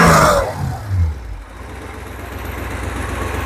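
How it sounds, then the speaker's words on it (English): Porsche 928 engine idling after a fuel pump replacement: a brief louder burst at the start settles into a steady, smooth low rumble held close and even. "Seems like it's idling pretty good."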